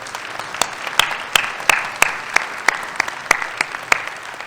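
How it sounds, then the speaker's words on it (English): Lecture-hall audience applause for volunteers, a thin spread of clapping with a few sharp, close individual claps standing out at a fairly regular beat over the softer crowd patter. "give yourselves a round of applause"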